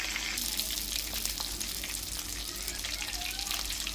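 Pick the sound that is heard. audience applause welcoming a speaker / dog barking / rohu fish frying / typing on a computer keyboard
rohu fish frying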